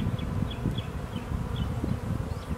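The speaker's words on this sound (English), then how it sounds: "it's fun just hanging out with the bees." Honey bees swarm and buzz continuously around a tree during a colony rescue, a dense, steady hum that sounds close by and has no talk over it.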